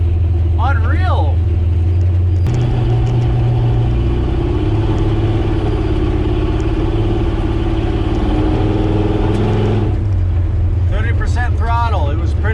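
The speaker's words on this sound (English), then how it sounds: "I would really like to get the exhaust out past the back of the cab. The drone in here is terrible." Loud, steady exhaust drone from a 1968 Chevy C20 pickup's big block engine running inside the cab, a constant low rumble throughout with a brief voice near the start and again at the end.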